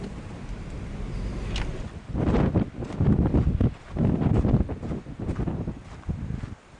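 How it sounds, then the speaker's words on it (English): Strong gusts of wind at a hiking spot in Saguaro National Park, Tucson, buffet the microphone in rumbling surges, rising and falling over several seconds. "I mean, it's really, really windy."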